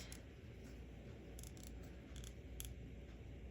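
Scissors trimming fabric for a small apron for a toy bear, giving a few short, crisp snips in separate bursts over a quiet indoor hum.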